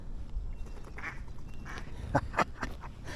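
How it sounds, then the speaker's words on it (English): Mallard ducks quack close by on the Rio Ebro, several short calls in quick succession over a low outdoor background, with a couple of louder quacks toward the end. "I love the sound that ducks make"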